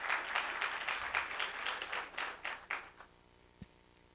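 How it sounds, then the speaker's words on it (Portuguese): An audience at the Melhores do Brasil 2025 launch ceremony in Belo Horizonte gives a warm round of clapping that holds for about three seconds, then fades quickly into a quiet hall. "Uma salva de palmas."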